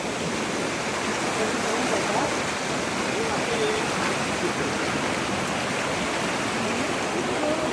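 Water pours over a small village weir in a steady, broad rushing roar that stays even and unbroken from start to finish, with no voices.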